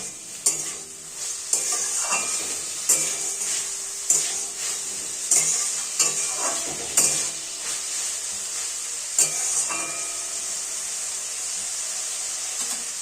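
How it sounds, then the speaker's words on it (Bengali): Whole coriander seeds and spices stirred into a potato and green pea curry with softened tomato in a pan, with steady sizzling and repeated spoon scrapes and clinks at a close, even level. "আবারও সমস্ত উপকরণ খুব ভালোভাবে নাড়াচাড়া করে কষতে থাকবো"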